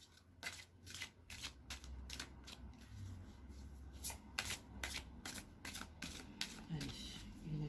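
Oracle cards are shuffled by hand in a rapid series of crisp, papery riffles and slaps, close and fairly quiet, with faint speech now and then.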